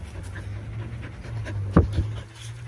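Dogs pant close by in a steady, quick breathy rhythm, with a soft whimper or snuffle briefly breaking through near the end.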